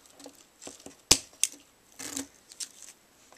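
Scissors snip through a pipe cleaner in a quiet indoor craft setting: one sharp, close cut followed by a smaller second snip, with light handling rustles between them.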